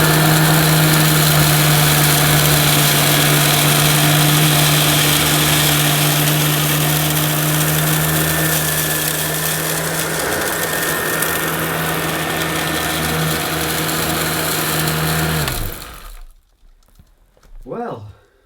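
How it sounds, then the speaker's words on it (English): A lightweight Dirt Devil Broomy Broom Vac 750 runs loud and close over carpet, a steady motor whine and airflow drone picking up dirt, holding for about fifteen seconds before cutting off abruptly into near silence. "we'll see if this little lightweight Dirt Devil Broomy is any good at picking up"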